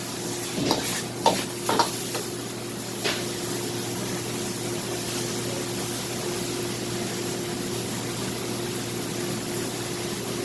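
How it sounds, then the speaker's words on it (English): Sauce with a few ounces of stock heats toward a boil in a pan, a steady close bubbling sizzle with a few brief stirring scrapes near the start, then an even hiss. "you can add maybe 2-3 ounces of stock. And let the sauce bring up to a boil."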